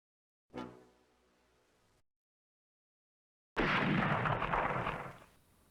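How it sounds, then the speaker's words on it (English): A bazooka rocket fired at a Mark IV tank in the Close Combat wargame: a sharp launch thump that decays into quiet, then after a pause a loud, roaring blast that rumbles for about two seconds before fading. "The rocket goes out and misses."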